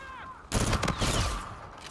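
Rapid automatic fire from an R3K assault rifle in Infinite Warfare: after a brief quiet moment, a loud, dense burst of close shots rolls on for well over a second, then trails off into a fading echo.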